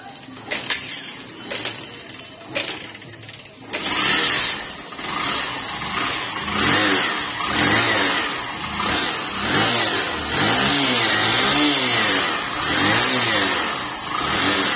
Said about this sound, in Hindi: इंजन ठीक ठाक ही है, बाकी बॉडी का पूरा